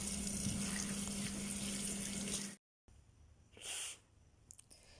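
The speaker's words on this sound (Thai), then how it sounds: "ล้างน้ำไหลผ่านออกให้สะอาด" Limes rinsed under running tap water in a kitchen sink, a steady close hiss of flowing water that cuts off abruptly, followed by quieter intermittent splashes and a brief gush.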